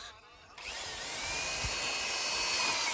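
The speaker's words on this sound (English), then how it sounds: "fixing with the self-threading screws" A power drill drives self-threading screws into metal net house profiles fixed on a pipe, giving a faint, steady high whine that rises and holds for a few seconds.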